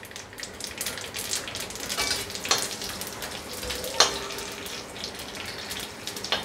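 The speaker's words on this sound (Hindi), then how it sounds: "ये राई को डाल देती हूँ इसमें, और कड़ी पत्ता डाल देती हूँ, और ये देखिए तिल भी डाल देती हूँ" Mustard seeds, curry leaves and sesame seeds sizzle in hot oil with a loud, continuous crackling hiss, close up, punctuated by a few sharper pops and spits; no voices.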